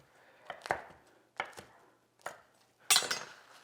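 Browned baked pieces for gluten-free stuffing being cut on a board, four distinct close knife chops spaced about a second apart, the last one sharpest and loudest.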